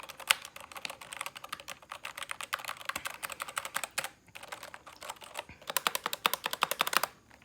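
Fast typing on a Corsair K70 Rapidfire mechanical keyboard with silver linear switches: dense runs of sharp, loud key clacks at close range, with brief pauses between bursts.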